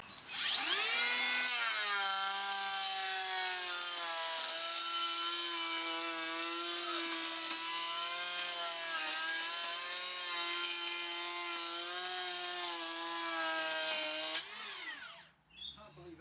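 A Makita 40V cordless power planer on a 2.5Ah battery spins up and cuts wood in one long, loud, steady pass of about thirteen seconds with a high whining drone, then winds down.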